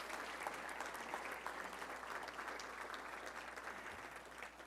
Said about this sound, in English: Let's please give a round of applause